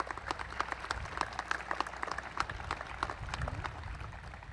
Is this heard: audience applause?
yes